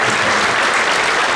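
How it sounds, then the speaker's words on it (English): Parents and audience clap for a seventh-grade school band at a winter concert, a loud, sustained roar of applause that stays thick and even from start to finish. "So one more round of applause for everybody."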